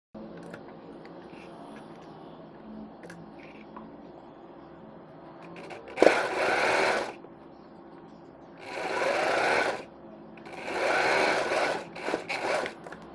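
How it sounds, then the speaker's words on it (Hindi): A domestic sewing machine stitches a binding strip around the neckline of a girl's kurti in three loud, separate bursts, each lasting a second or two, with quiet handling of the fabric in between. "यहाँ पे हम सिलाई लगाएंगे पूरे गले में।"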